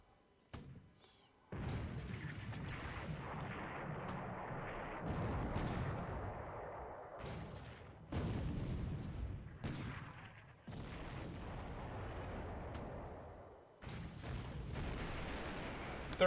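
Several heavy booms and blasts of shells striking a warship in a World War II naval war game, loud and spaced a few seconds apart, with rumbling tails between impacts.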